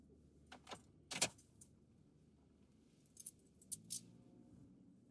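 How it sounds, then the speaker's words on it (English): Keys jangle faintly in a quiet room, a couple of short metallic clinks followed by a few more brief rattles a few seconds later, with no one speaking. "Keys."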